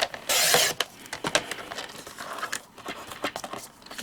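A paper trimmer slices black heavyweight cardstock with a short scraping cut, followed by light clicking and rustling of the paper and the tool, all close and fairly quiet.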